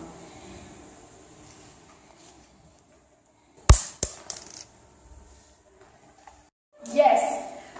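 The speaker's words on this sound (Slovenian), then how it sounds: "uporabili bomo kar kovanec za 2 evra" A 2 euro coin is tossed and lands with a sharp metallic clink and a few quick bounces, then a brief rattle, heard close and fairly crisp amid quiet room tone.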